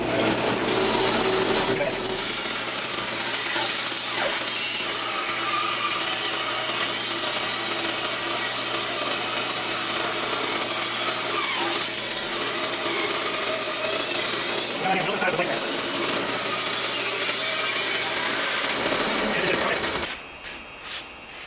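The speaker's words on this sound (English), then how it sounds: "put a brand new 3/4 inch blade in that's just made for cutting" A bandsaw fitted with a new 3/4 inch blade for green wood rips through a curly ash blank, a loud, steady cutting roar that holds for about twenty seconds before stopping abruptly, followed by a few faint knocks.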